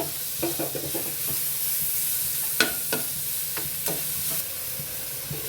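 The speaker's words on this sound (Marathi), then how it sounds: "आपलं कांदा, खोबरं आणि टमाटर छान असं भाजून झालेलं आहे" Onion, grated coconut and tomato roasting in a pan for a crab masala, with a steady close sizzle and hiss and several spaced clacks of a spoon stirring and scraping, no voices.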